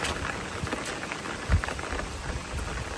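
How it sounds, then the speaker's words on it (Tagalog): Steady rain patters and splashes on potted plant cuttings outdoors in a dense, constant hiss of drops, with one slightly heavier splash midway and no voices. "Tumatalsik yung ulan."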